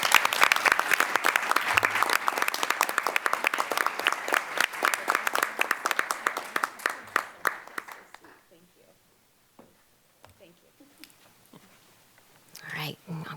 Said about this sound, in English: So if you wouldn't mind, a round of applause for Liz.